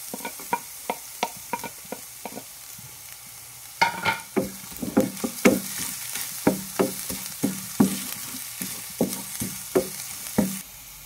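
Chopped ginger and garlic sizzle in a hot pan, with a steady fry beneath repeated sharp scrapes and stirs of a utensil, close and fairly quiet.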